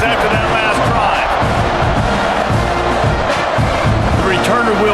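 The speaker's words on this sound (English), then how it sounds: "this crowd is feeling themselves after that last drive" A college football stadium crowd roars loudly and continuously before a kickoff following a touchdown, a dense wall of cheering and shouting with occasional sharper whoops rising above the din.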